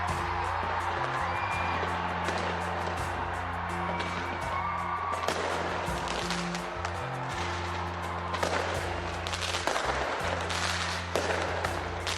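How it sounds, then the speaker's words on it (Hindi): Repeated loud New Year fireworks bursts and crackles overlapping in quick succession after a countdown, with a crowd cheering faintly beneath the steady booming. "काउंटडाउन के बाद आतिशबाजी होते ही नए साल का जोरदार तरीके से स्वागत किया गया।"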